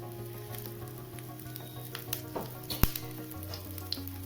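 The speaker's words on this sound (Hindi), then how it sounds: "तो चलिए थोड़ी सी इसमें डाल देते हैं चारों तरफ से ऑयल बटर जो आपको पसंद है वो आप डाल दीजिए" An uttapam frying in a pan with oil or butter drizzled around it, a soft steady sizzle with scattered crackles and one sharp clack of a utensil against the pan, quiet and close.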